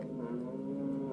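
A dairy milking cow gives a single sustained low moo, close and clear, filling the whole short moment on its own.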